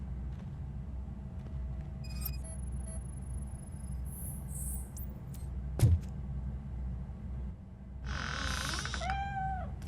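A cat meows near the end of a game scene in RoboCop: Rogue City, a short rising cry following quieter ambient tones, a sharp impact and scattered electronic chirps.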